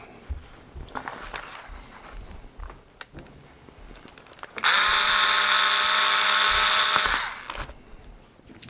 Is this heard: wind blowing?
no